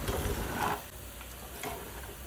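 Puffed rice upma being stirred in a pan, with soft scraping, light ticking and a faint sizzle heard close up and alone for a couple of seconds.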